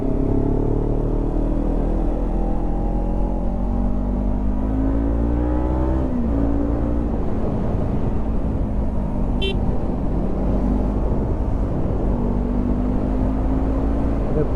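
A motorcycle on a highway in Kashmir accelerates hard and loud with a steadily rising engine whine, briefly dips as it shifts gear, then climbs again under constant wind and road roar.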